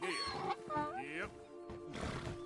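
A horse in Red Dead Redemption 2 whinnies and snorts with rising and falling cries, close and fairly loud, mixed with a voice speaking to it.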